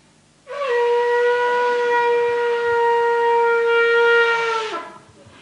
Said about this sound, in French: qu'on dirait une sirène de bateau